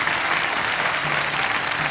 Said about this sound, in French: ça vaut des applaudissements